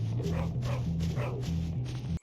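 A dog in the school-grounds game Bully barks in a steady run of repeated woofs and yips over a constant low in-game hum, fairly close and loud throughout.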